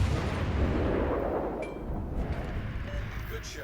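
Naval gunfire from a warship in the World of Warships Legends video game: a deep, rumbling boom that decays into a long, fading roar, moderately loud, with faint game effects afterward.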